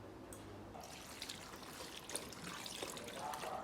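A cup of water poured into a hot macaroni pie mixture of pasta and evaporated milk, heard as a faint, continuous trickle and splash at low volume, with no talking.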